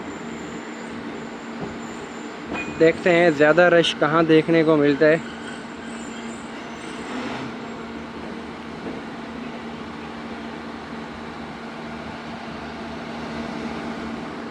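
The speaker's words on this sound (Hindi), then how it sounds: "मुजफ्फरगढ़ रेलवे स्टेशन इंटर हो रही है दोस्तों ट्रेन हमारी" Musapak Shuttle Train pulling into Muzaffargarh railway station on the Multan to Dera Ghazi Khan run, giving a steady, even rumble throughout, with someone speaking briefly near the start.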